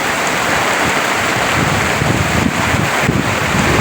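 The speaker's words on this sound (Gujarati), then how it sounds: "જોરદાર વરસાદ આવ્યો ભાઈ" Heavy first-of-season rain driven by a strong windstorm over farmland, a dense, steady roar of downpour and gusting wind buffeting the microphone, loud and unbroken throughout.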